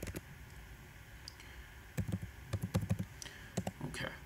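Typing on a computer keyboard while entering a word into Excel VBA code: a few isolated clicks, a pause, then quick irregular clusters of close, crisp keystrokes and a final burst.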